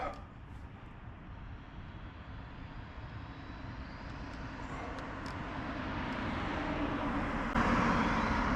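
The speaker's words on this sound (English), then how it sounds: "I hear a car." A car drives by outdoors, a steady road rumble that grows gradually louder as it approaches and peaks near the end, with no one speaking.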